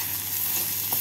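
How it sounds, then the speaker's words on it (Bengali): Grated ginger and garlic with onion and green chillies fry in a pan for egg keema curry, a steady, even sizzle throughout, close and fairly loud. "আদা আর রসুনটাকে পেঁয়াজের সাথে 1 মিনিট মতো ভেজে নিলাম।"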